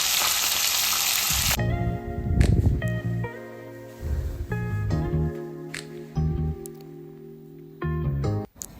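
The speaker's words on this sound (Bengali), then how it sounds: "তো দেখো আমার মাছ ভাজা হয়ে গেছে, এখন নামিয়ে নিচ্ছি" Catfish frying in oil makes a loud, dense sizzle for the first second and a half, then cuts off and gives way to a melodic music track.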